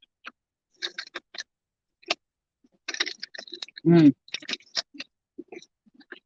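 Wet, irregular chewing and mouth clicks close to the mic, with a brief voiced sound partway through.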